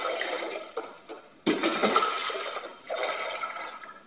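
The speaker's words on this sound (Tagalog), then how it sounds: "So, ganito lang pagtapon ng tubig pag kunti na." Water pumped out during pool cleaning gushes and splashes in uneven surges, with a sudden heavy dump midway and another rush near the end, fairly close.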